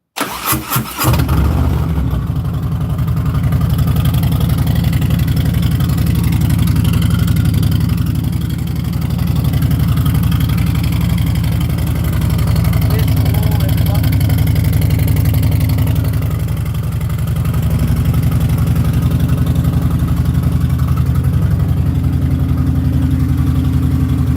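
A 2022 engine catches after a few short cranking bursts, then settles into a loud, steady, low idle that runs on evenly with slight swells, with no talking.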